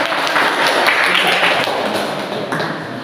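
A room of participants applauds a presenting discussion group, with dense, steady clapping, loud and close, that tapers off slightly toward the end.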